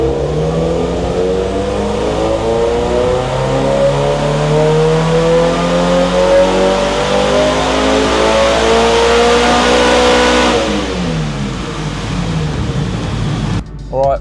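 Supercharged Subaru BRZ / Toyota 86 engine revving hard on a dyno during a tuning run, a loud sustained climb in pitch through the gears that peaks and then drops away as the throttle closes near the end.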